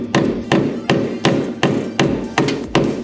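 A heavy hammer drives a chisel against a ball joint on a Chevy S10, about eight sharp metallic blows in an even, steady rhythm, each close and ringing briefly.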